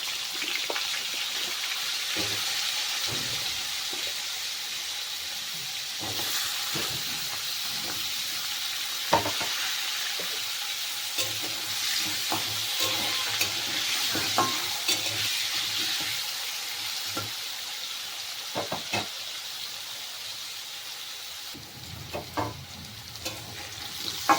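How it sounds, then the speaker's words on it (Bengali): Carrot and potato pieces frying together in a pan, part of a quick paneer vegetable dish, make a continuous low sizzle broken by occasional clicks and scrapes from stirring, sustained for a long stretch. "এবার আমি গাজর আর আলুটাকে একসাথে ভেজে নেবো"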